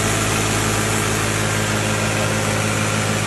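A modified Moga tractor with a turbo idles close by, a loud, steady low engine rumble with constant vibration and no speech.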